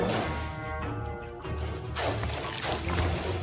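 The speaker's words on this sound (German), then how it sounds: "Deswegen spritzt er auch mit Wasser." Water sprays and splashes in Luigi's Mansion 3 as a broad, gushing rush that eases briefly and then surges back louder over rumbling game sounds.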